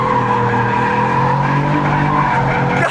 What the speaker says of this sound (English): it definitely sounds like a pretty beefy little engine under that hood